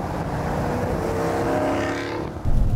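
A 2015 Dodge Challenger R/T Scat Pack's 6.4-liter V8 roars and revs steadily, its deep growl holding loud and close, then surging with a sharp burst near the end.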